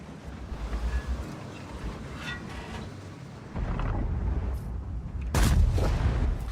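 Heavy cannon shots from an IS-7 tank in a tank battle game, several booming blasts over a rumbling engine background, the loudest and sharpest arriving near the end.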